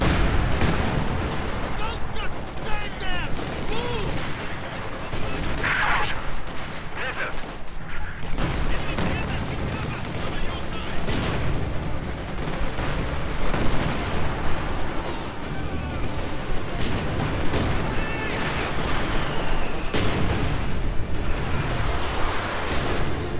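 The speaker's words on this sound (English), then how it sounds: "Heavy mortar firing in support of the advance, trying to soften up the enemy opposition." Heavy mortar firing in Company of Heroes 2 during a blizzard advance: a dense, continuous stream of booming shots and explosions from the game's battle, with a voice talking over it.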